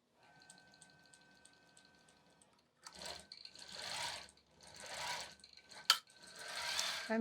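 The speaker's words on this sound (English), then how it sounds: "I'm just going to go ahead and start quilting." A longarm quilting machine fitted with a spoon foot stitches a flannel baby quilt with gray thread, its faint rapid hum starting after a quiet stretch and running in steady bursts close by.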